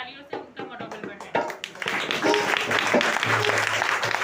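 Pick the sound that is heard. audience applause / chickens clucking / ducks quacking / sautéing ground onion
audience applause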